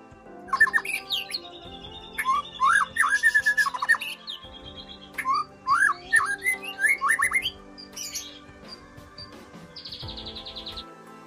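A white-rumped shama sings varied, whistled phrases and rapid chirps in bursts with short pauses, ending in a high trilling run, close and clear.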